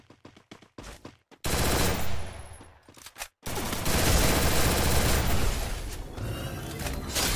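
In the Garena Free Fire video game, short clipped gunshots come first, then long, dense bursts of automatic gunfire that roar loud and close, with a brief pause in between.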